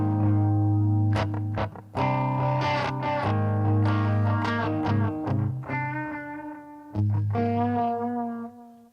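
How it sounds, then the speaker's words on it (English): A distorted electric guitar plays sustained chords and single notes, heavily overdriven with a slight echo, loud and alone without any voices. "Gets a little distortion on there."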